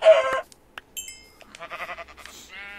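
Minecraft chickens cluck in a few short, close bursts with quiet gaps between them during survival play.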